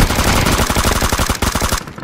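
Rapid automatic gunfire fired at a sniper in a PUBG duo match on the Sanhok map, with loud, dense, evenly spaced shots running nearly two seconds before abruptly cutting off.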